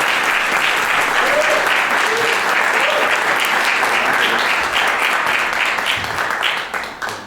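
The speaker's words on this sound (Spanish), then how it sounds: "Un aplauso, por favor" Sustained applause from an audience welcoming a speaker, Eros Quintero, to the stage at a talk; dense, steady clapping that swells loudly and then tapers off toward the end, with faint voices mixed in.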